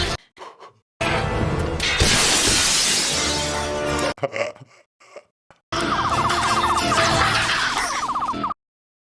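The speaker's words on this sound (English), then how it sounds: "You gotta break the glass." Loud crashing and shattering, like glass breaking, comes in two long noisy bursts with a short quieter gap between them.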